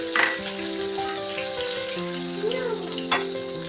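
Curry leaves with chopped ginger and garlic frying in oil for a guava pickle, a crackling sizzle with stirring scrapes and a couple of metallic clinks, close, under a faint tonal hum and no talk.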